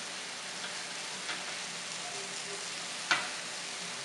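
Chicken frying on a tawa, a steady broad sizzle throughout with soft stirring scrapes and a sharp clink near the end, close and even, no talking.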